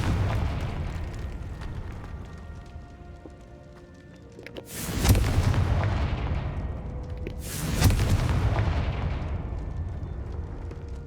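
Fiery spell explosions from the Confringo curse in the video game Hogwarts Legacy: two loud booming bursts a few seconds apart over a steady rumbling game background, each decaying slowly.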